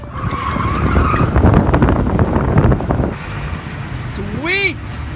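A drift car howls past with loud, sustained tire squeal and engine roar for about three seconds, then fades into quieter background noise with a few brief high chirps near the end.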